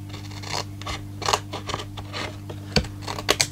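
Scissors snip paper bits off a junk journal cover: a handful of short, crisp cuts and light paper scrapes at irregular intervals, close by, over a steady low electrical hum.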